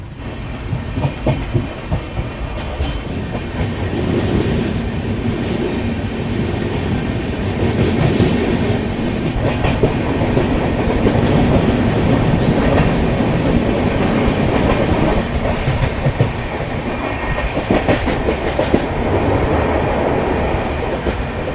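Passenger train on the Kolkata to Digha route rolling steadily, with continuous rumbling wheel noise and rhythmic clickety-clack over the rails, loud and close from inside the carriage throughout.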